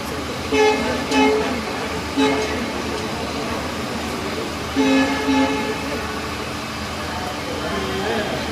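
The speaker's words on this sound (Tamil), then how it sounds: "நமது தொடர் வண்டி விழுப்புரத்தை விட்டு புறப்பட்டு விட்டது." The Pallavan superfast express train rolls on after leaving Villupuram station, with a steady rail rumble and several short horn toots in two clusters. Voices are heard in the background.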